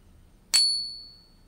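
A silver piece dropped on a ping tester gives a single bright, clean ring that starts sharply and fades over about a second in an otherwise quiet room.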